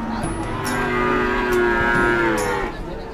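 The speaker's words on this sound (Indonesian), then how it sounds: "Ini sapi-sapinya." Cattle moo at a livestock market where young breeding heifer calves are sold, several long, loud lowing calls overlapping close by against a steady market din.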